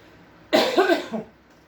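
A single rough cough, close and fairly loud, lasting under a second and followed by quiet.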